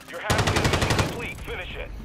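Rapid automatic gunfire from Call of Duty MW3 erupts as a loud, evenly spaced burst of about nine shots lasting under a second, then gives way to fainter game noise and voices talking.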